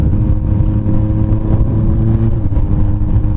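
A Honda CB 1000R motorcycle engine and exhaust running close by in a low gear, a deep, loud, rumbling drone with a steady throb.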